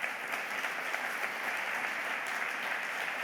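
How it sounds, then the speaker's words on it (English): Steady, dense applause from a large conference audience fills the space evenly, a continuous wash of clapping without pauses. "Let's give them a round of applause."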